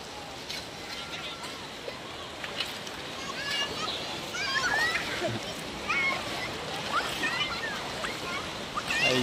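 People bathing in the Dipalo River in Pangasinan: steady rushing water with scattered splashes, the bathers' faint voices and calls mixed in throughout.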